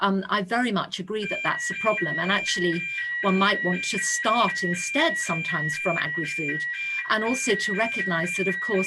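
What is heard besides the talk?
building fire alarm going off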